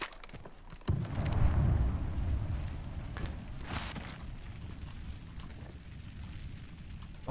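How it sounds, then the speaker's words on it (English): Thermite grenade igniting and burning in the Apex Legends video game, a sudden whoosh near one second followed by a sustained low roaring burn that slowly fades, with faint footsteps and no talking. "Throwing thermite grenade."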